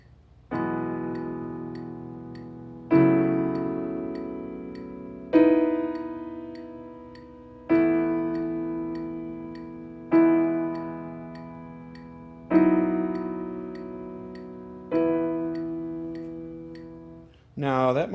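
Piano chords played without their bass notes, seven sustained chords struck at a steady slow pace, each ringing and decaying before the next, with a brief voice at the very end.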